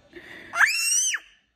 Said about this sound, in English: No screaming.